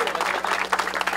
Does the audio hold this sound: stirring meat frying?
no